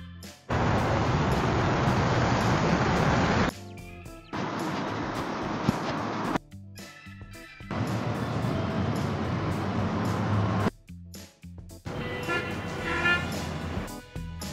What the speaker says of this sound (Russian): Итак, звуки автомобилей в пробке.